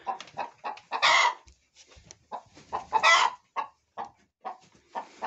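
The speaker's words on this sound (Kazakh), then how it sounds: "Тауық қора." Chickens cluck in a coop in Karaganda, Kazakhstan, a busy run of short clucks broken by a couple of louder squawking bursts, nearby and with no talking.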